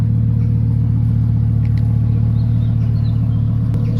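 A Lamborghini Huracan Evo with an open-valve exhaust sends out a loud, steady, deep engine rumble that drones on without a break, with no voices over it.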